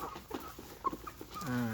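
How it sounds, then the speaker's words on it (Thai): A few hens cluck softly in short bursts while being fed up close, then one gives a longer drawn-out call, fairly close and quiet. "วันนี้ให้อาหารไก่แบบ ชิดใกล้ชิดหน่อยครับ"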